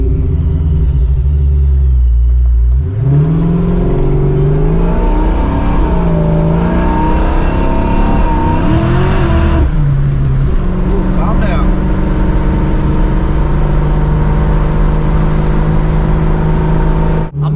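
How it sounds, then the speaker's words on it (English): A car engine drones and revs as the car drives around, loud and close throughout, with rising and falling pitch as it accelerates and a brief harder rev midway; a voice talks over it at times. "Drive the car around a little bit more"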